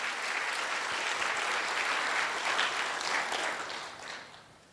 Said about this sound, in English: can we give a big round of applause for all the volunteers here today?